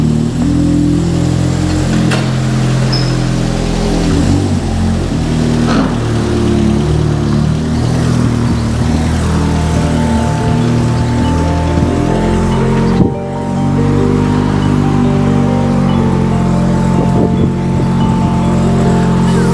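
A car accelerating hard from 50 to 210 km/h, its engine droning loudly and steadily with rising pitch, wind roar throughout and a brief gear-change dip midway.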